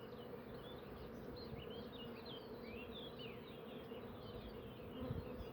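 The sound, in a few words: honeybees buzzing around a hive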